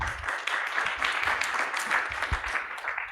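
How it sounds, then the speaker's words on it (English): Audience applause at a democracy hackathon livestream, a steady wash of moderate clapping sustained for a few seconds with no voices over it. "Let's give a big round of applause."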